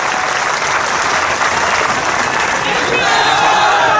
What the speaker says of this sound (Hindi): अच्छा जोरदार ताली बजा